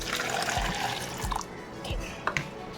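Water pours and splashes into a container, with a few dull knocks and trickles as the flow eases.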